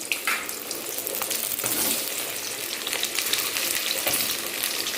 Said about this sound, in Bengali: আর দেখো তেল তো গরম হয়ে গেছে, পটল এবারে দিয়ে দিই।